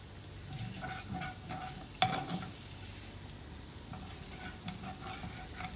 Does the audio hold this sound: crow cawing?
no